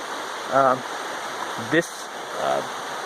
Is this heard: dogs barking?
no